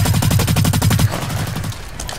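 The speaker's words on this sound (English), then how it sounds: "Okay, I aim and shoot." Rapid automatic gunfire from a video game rattles out in a fast, steady burst of evenly spaced shots, loud and close, then gives way to a few scattered reports and fading echoes.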